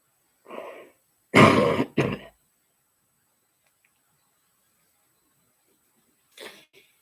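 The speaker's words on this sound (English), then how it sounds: "I'm in trouble with the cough at the moment." A few harsh, close coughs: one short bark, then a loud double cough, followed by silence and a faint throaty sound near the end.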